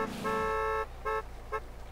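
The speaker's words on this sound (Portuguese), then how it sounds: "O cara tá buzinando" A car horn honks in the GTA MTA multiplayer game, a long blast followed by two shorter toots, loud and close with no talk over it.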